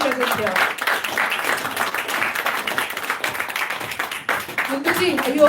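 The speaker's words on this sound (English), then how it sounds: "a big round of applause for each one of you present here" A room of people at a business meeting clapping steadily, a dense, moderately loud round of applause that continues throughout, with a few voices heard at the edges.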